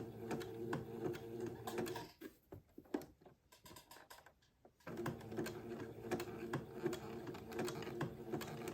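A sewing machine slowly zigzag stitches lace to entredeux, a steady mechanical whirring with rhythmic needle ticks that stops briefly midway, then resumes close and alone.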